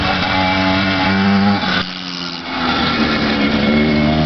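A 1974 125cc dirt bike riding past, a loud buzzing two-stroke engine with harmonic whine that drops in pitch as it shifts, dips briefly, then revs again, no talk.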